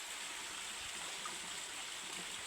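A small creek flows steadily, a soft, even hiss of running water heard at low volume with no other sounds.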